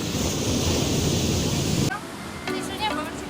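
Surf washing onto the shore at Ungapan Beach in Malang, a steady, loud roar for about two seconds that cuts to a quieter scene where people talk briefly.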